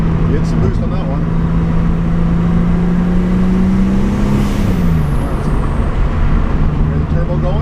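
A turbocharged Chevrolet Cavalier Z24 engine building boost, with a steady whirring tone that rises and then drops near the end. It sits close under idle and engine noise, and people talk throughout.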